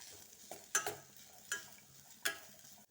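Vegetables for a ragi egg soup frying in a pan, a soft sizzle punctuated by a few sharp scrapes of a spoon stirring against the metal, spaced about once a second, fairly quiet and close with no talking.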